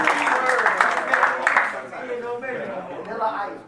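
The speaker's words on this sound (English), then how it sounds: "let's give a big round of applause for Brandon Wright" Graduates and guests at a welding graduation ceremony clap and cheer for an honored student, a loud wash of applause mixed with crowd chatter that thins out as voices take over.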